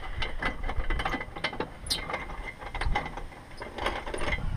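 Bolts come off a plate on a Jeep TJ during a snorkel install: a ratchet clatters in quick, busy bursts of clicks, close and fairly loud over faint background noise, with no talking.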